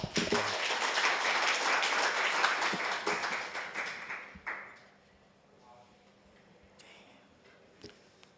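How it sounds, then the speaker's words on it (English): Audience applause welcomes a speaker at the PyCon APAC 2023 programming conference, a dense burst of clapping for about four seconds that fades out quickly, leaving a quiet room with faint small noises. "Please welcome Philip San with applause."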